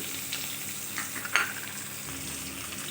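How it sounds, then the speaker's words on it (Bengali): Potatoes frying in hot oil with salt and turmeric, a steady close sizzle with a few soft stirring scrapes and no talking. "এবার ওই তেলে আলুটাকেও ভেজে নেব"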